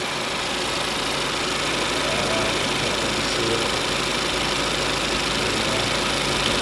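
A 2017 Audi A4 with a turbocharged engine idles steadily under the open hood, a continuous close-up hum with a faint mechanical rattle and no voices.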